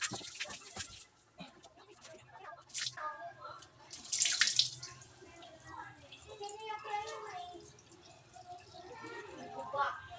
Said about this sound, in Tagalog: barado siya guys kay hinay iyang tulo